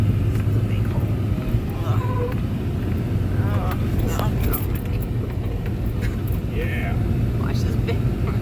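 A Honda CR-V crawls through soft, wet sand on a forest trail in Ocala National Forest, giving a steady, close engine and tyre rumble that runs the whole time under people talking.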